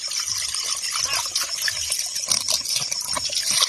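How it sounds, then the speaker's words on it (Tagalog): Water pours into a farm sprayer tank as an insecticide, foliar fertilizer and fungicide mix is prepared, making a steady close gushing splash that runs on without a break. "Lagyan natin ng tubig."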